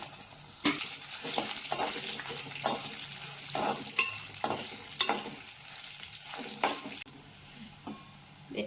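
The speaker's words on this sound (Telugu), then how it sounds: "ఒక స్పూన్ ధనియాలు కొద్దిగా వేయించుకోవాలి రెండు నిమిషాలు వేగిన తర్వాత ఎండుమిరపకాయలు కూడా వేసుకోవాలి" Coriander seeds and dried red chillies roast in a pan, a soft crackling sizzle broken by repeated scraping stirs of a spatula, close and gently rhythmic.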